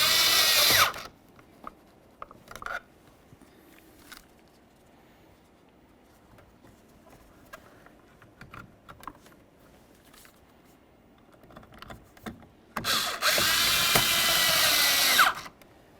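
Power driver running Phillips head screws into a Ford Ranger door by the grab handle, two loud whirring bursts at the start and near the end with quiet handling noises between.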